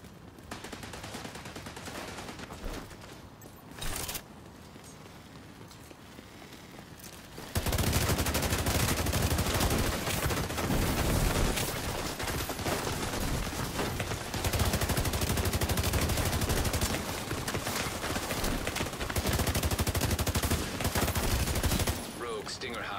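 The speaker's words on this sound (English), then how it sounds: "Assault turret detected." Assault turret gunfire in The Division 2 video game: sustained loud automatic bursts, starting with quieter scattered shots and then a dense, continuous roar of fire that holds steady for about fifteen seconds before briefly easing.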